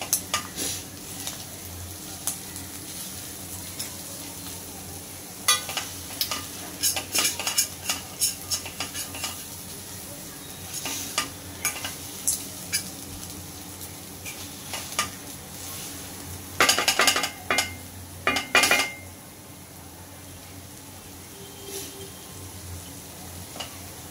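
Mashed green peas are sautéed in a pan for raan bhaji kachori filling, a low sizzle beneath repeated scraping and clinking stirs that come in bursts, loudest near the end; no voices.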